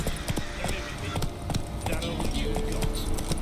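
Roach the horse gallops in The Witcher 3, hooves clip-clopping in a fast steady rhythm alongside combat clatter and voices, loud and close throughout.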